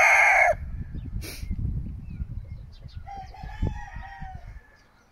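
A young Irish/English Whitehackle gamefowl stag of duckwing colouring crows once briefly and close, followed by a second short call and soft clucking and rustling around a farmyard.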